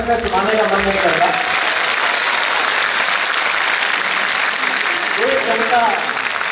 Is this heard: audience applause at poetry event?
yes